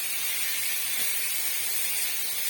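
A steady, even hiss of ingredients sautéing in a hot pan for a rasam, continuous and close with no talking.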